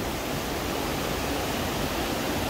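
Warm river water flowing in La Fortuna, Costa Rica, a steady broadband rushing roar that holds constant and fairly loud throughout, with no voices.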